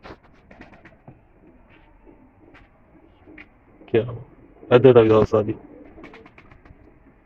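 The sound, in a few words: pigeons cooing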